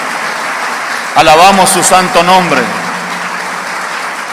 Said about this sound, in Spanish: Démosle al Señor Jesucristo todo un aplauso aún más fuerte todavía